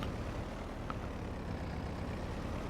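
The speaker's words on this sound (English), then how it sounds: "Little bitty small diesel engine." A small diesel engine on a New Holland tractor in Farming Simulator 22 runs with a steady low rumble, close and even in loudness throughout, with no talk over it.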